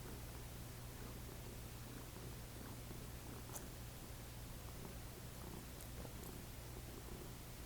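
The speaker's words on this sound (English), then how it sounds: "My cat's enjoying his pats." A pet cat purrs steadily and continuously while being petted, a low, close rumbling drone running unbroken from start to finish with no talk over it.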